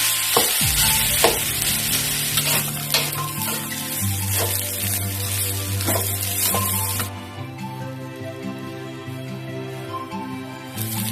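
Rice stir-fried in a hot pan for Thai vegetarian green curry fried rice with stink beans, a loud continuous sizzle with repeated scraping strokes of the spatula, close up.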